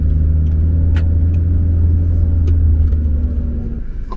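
A Ferrari 458 Italia's engine rumbles close by with a deep, steady low drone and a slight rise in pitch, heard alone without talk.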